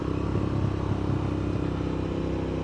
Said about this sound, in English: now I'm going to focus on getting back on this bike, getting back used to riding around these roads